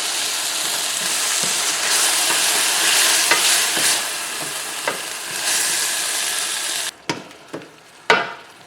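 Garlic and tomato sauce sizzle steadily in a pan, with a loud continuous frying hiss while a utensil stirs and scrapes. The sizzle then drops away, leaving a few distinct clanks and scrapes of stirring.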